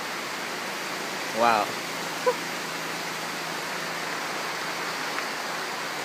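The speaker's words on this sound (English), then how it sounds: "It's raining really hard." Heavy rain pours steadily as a broad, even hiss outside a riverside bungalow in Iquitos, Peru, with a brief spoken exclamation partway through.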